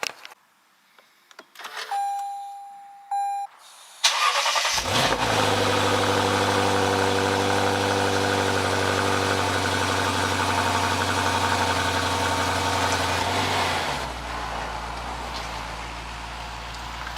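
A Lexus RC F in a garage starts up after a few quiet clicks and electronic chimes, then settles into a steady, loud, close idle that drops to a lower rumble near the end.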